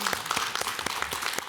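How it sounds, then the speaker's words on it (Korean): A studio audience on a Korean morning talk show applauds, with soft, fairly quiet steady clapping from many hands and a few sharper individual claps standing out. "요 타이밍에서 박수 한번 아,"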